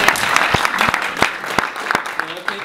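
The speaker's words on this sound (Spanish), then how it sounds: "Bueno, aplauso." Close, lively audience applause with a few distinct sharp claps standing out over the steady crowd clapping, loud throughout.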